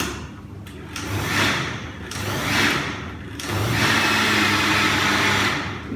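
A blender pulses hot food in a kitchen in short bursts, three loud whirring pulses about a second apart, then a longer sustained run, close by with no talk.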